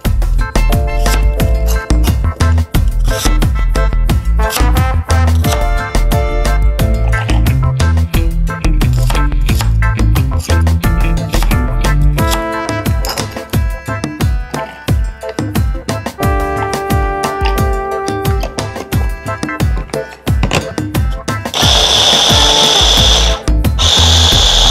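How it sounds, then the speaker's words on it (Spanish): Blender grinding onion and serrano peppers for a homemade restaurant-style salsa, loud and continuous with repeated pulsing bursts, ending in a steadier high-pitched whir. "voy a agregar mi cebolla y lo voy a moler"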